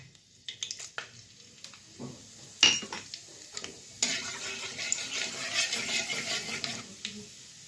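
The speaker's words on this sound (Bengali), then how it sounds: "তেলটা গরম হয়ে গেছে। তো দিয়ে দিব শুকনো লঙ্কা আর দিয়ে দিব গোটা জিরা।" Dry red chilies and whole cumin seeds hit hot oil in a pan, starting with a few close clinks and taps, then breaking into a steady, crackling sizzle that holds to the end.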